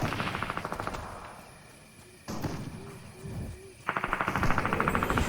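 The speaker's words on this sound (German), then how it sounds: "Da habe ich geschossen." Rapid automatic gunfire in the video game Fortnite rattles in loud bursts at the start and end, with a quieter gap in between.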